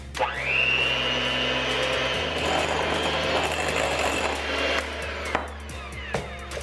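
An electric mixer whirs steadily while beating cream cheese with powdered sugar, loud and close, winding down near the end with a few clinks from the bowl.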